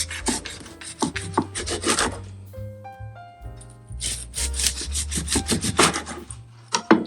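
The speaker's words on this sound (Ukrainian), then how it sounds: "Я беру ніж пилка і прорізаю до самого кінця." Rhythmic rasping strokes of a serrated knife sawing through a crispy Belgian waffle, with brief pauses between bursts of scraping.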